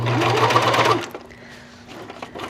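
A sewing machine stitches a row of ruching in a short, fast whirring burst of about a second, then drops to a softer hum and faint mechanical ticks.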